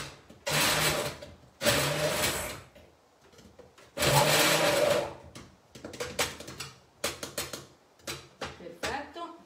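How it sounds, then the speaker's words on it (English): An immersion blender whirs in loud bursts of a few seconds each, starting and stopping repeatedly, then shorter choppy pulses during a homemade pink pasta sauce prep; quieter gaps hold faint background sounds. "We go with our immersion blender."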